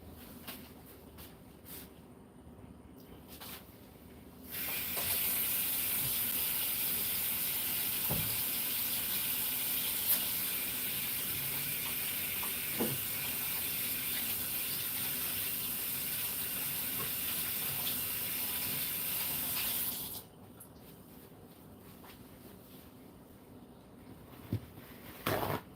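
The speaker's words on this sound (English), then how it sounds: "Let me get my hands washed" Tap water runs steadily into a sink as hands are washed in a home kitchen, a continuous gushing splash that starts abruptly, holds for about fifteen seconds, then cuts off, with quiet room sound before and after.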